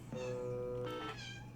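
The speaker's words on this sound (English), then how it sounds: "trying to talk to the other cat, so you might hear him" A cat trying to talk to another cat gives one drawn-out, fairly quiet meow followed by a brief second chirping call, heard up close indoors.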